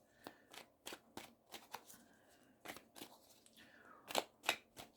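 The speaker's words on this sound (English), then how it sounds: "Shuffling the cards." Tarot cards are shuffled in a series of crisp riffling bursts, some quick and some drawn out, close by with quiet pauses between.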